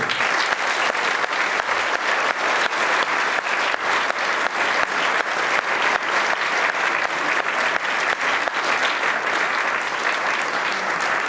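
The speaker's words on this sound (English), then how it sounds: "Please join us in a round of applause for their wonderful support" A concert audience at a military band tribute concert gives a loud, sustained round of applause, dense crowd clapping at an even level from start to finish with no talk over it.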